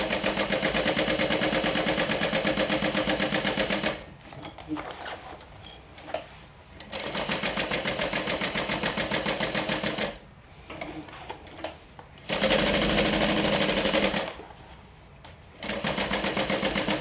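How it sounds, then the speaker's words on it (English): A sewing machine runs a basting stitch along a seam allowance in long, fast, rattling bursts, loud and close, stopping briefly between runs with quieter handling in the pauses. "This way this basting stitch will stay in the seam allowance when we put it together."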